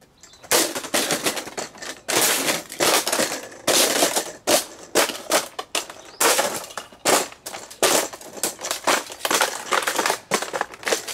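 A Matis HD TV antenna is smashed and crushed, giving a long run of loud, irregular cracking, snapping and crunching bursts, with repeated impacts separated by brief pauses and no voice.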